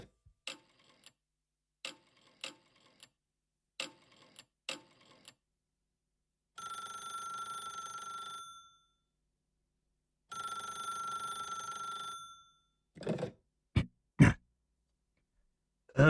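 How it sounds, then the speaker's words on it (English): A radio-drama telephone rings in two long bells, each lasting about two seconds, set between scattered faint clicks beforehand and a few louder knocks afterward, with no voices. "I grabbed the office phone and dialed Wolfe at once."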